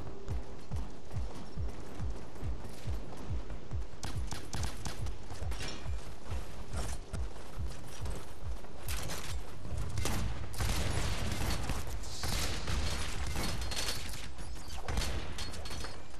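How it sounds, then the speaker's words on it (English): Rapid, dense bursts of pistol fire in a Bionic Commando multiplayer deathmatch, shots clattering in quick succession with mechanical clicks, loud and continuous throughout. "Rapid fire pistol."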